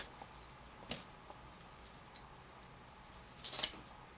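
Two brief crisp snips of a knife blade of AEBL steel slicing through material in 2-inch sections, one near the start and a sharper cluster near the end, separated by quiet background.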